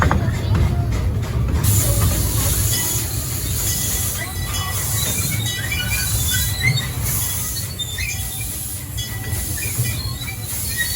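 Riding aboard a steam train on a Halloween excursion: steady loud rumble of rolling wheels and carriages with hiss and metallic squeal, continuous and close throughout.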